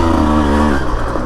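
A Husqvarna TE150 dirt bike engine revs close up, its two-stroke note climbing briefly as it shifts up and pulls away on single-track trail.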